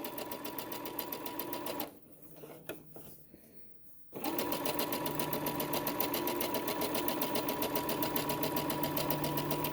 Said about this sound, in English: So the only thing I'm looking at right now is the edge, my raw edge where my serger went, and the edge of my presser foot.